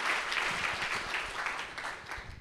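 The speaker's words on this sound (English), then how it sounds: "let's give another round of applause to the very moving opening performance" An audience at an international forum applauds an opening performance, a dense steady patter of many hands clapping that fades slightly toward the end.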